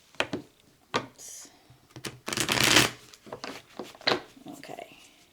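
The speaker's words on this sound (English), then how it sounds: "let me just reshuffle up the cards a little bit more" Tarot cards being reshuffled by hand, with crisp riffling bursts and softer slides, one longer riffle in the middle, repeated in quick separate strokes close by.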